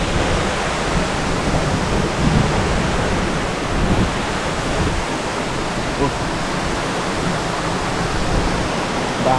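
A steady, loud roar of falling water fills the whole stretch, broad and continuous like a nearby waterfall, with no clear talking over it; Hulugan Falls in Luisiana, Laguna.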